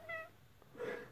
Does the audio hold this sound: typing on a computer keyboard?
no